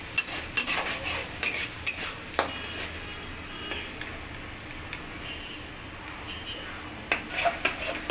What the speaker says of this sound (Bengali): এই দেখতেছেন ভাজা ভাজা করতেছি